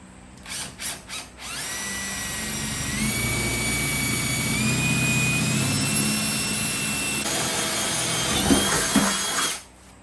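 A power drill with a 6mm bit bores through aluminium sheet, opening with a few short bursts before a steady, high whining drill tone that shifts pitch in steps as the bit cuts, then stops abruptly.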